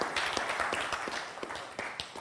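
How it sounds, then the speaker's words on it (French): An audience claps in a dense, steady patter of applause, moderately loud and continuous, fading slightly toward the end. "Mesdames et messieurs, vos applaudissements pour KB Esperel."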